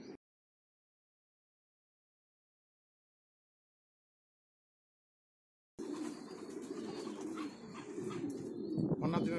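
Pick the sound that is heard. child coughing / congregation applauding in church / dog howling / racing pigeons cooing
racing pigeons cooing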